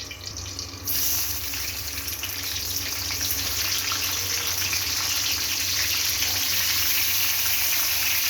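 Fresh tomatoes, about 1.5 kg, tipped into hot oil for an Andhra-style coriander pachadi hiss into a loud, steady, watery sizzle that starts abruptly after a quieter moment and holds constant close by.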